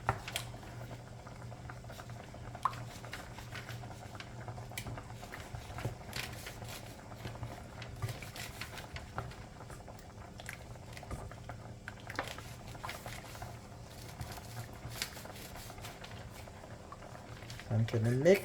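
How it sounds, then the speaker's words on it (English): Rasta pasta sauce with coconut milk being stirred in a pan, a steady low bubbling and soft wet patter with occasional clicks of the utensil, continuing evenly for a long stretch at close range with a brief louder scrape near the end. "And we continue mixing."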